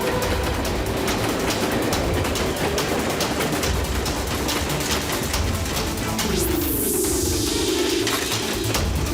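A moving train rumbles and clatters steadily in a cartoon chase scene, loud and continuous, with a whistling sweep near the end.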